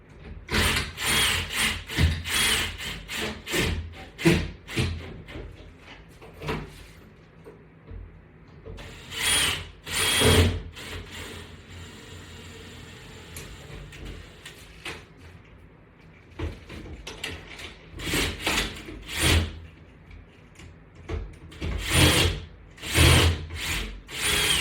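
Screws are driven in to mount a latch bar exercise system. A power driver whirs and ratchets in repeated short bursts, with clicks and brief pauses between screws, close and moderately loud.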